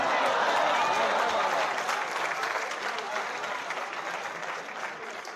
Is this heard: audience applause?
yes